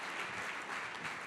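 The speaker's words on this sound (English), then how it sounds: "Why don't we go ahead and give them a round of applause," An audience at a business event about building bridges applauds, a dense, steady patter of many hands clapping for a short stretch, moderately loud and without speech.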